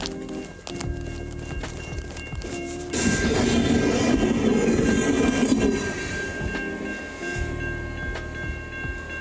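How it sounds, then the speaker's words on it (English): A train rumbles past close by, wheels clattering rhythmically over the rails, swelling loudest in the middle before fading back to a steady distant hum. "I thought the train was gonna go for a little bit longer than that"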